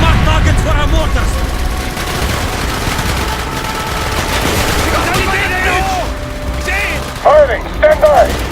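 Dense, loud gunfire and booming mortar blasts from the Call of Duty Black Ops mission Project Nova, with rapid automatic bursts and shouted voices over a continuous battle din.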